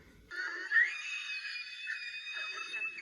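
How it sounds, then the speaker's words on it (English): A child screams on a train in a kids show, one sustained, loud, high-pitched shriek lasting nearly three seconds. "did you have to really scream like that?"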